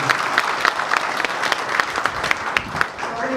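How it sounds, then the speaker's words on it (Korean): Audience members at a mayoral candidates' debate hosted by a merchants' association give a short round of clapping, dense and continuous with a few louder individual claps standing out. "큰 박수 부탁드리겠습니다"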